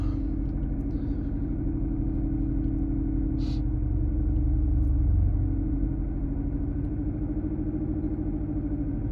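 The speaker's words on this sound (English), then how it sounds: "revving the car to 1500, holding it for 10 to 15 seconds, then up to 2500" A Ford Mustang GT with the 5.0 engine idles, then is held at a steady low rev as a continuous close rumble with a slight swell partway through.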